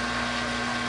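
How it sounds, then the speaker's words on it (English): A cylinder hone with 220 grit stones works inside a diesel engine block. A steady, close machine hum and whir runs continuously with no talk. "we got the engine block in the hone here"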